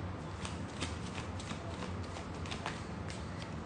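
Tarot cards being shuffled by hand, a steady run of soft riffling flutters and light card slaps, close and fairly quiet throughout with no talking.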